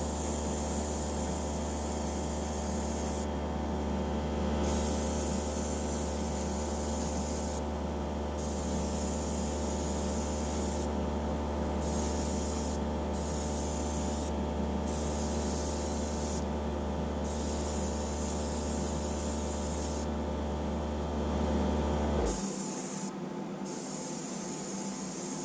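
Aerosol spray paint hisses in a long, steady stream over a small Matchbox Ford Corsair model, broken by brief pauses between passes before cutting off near the end.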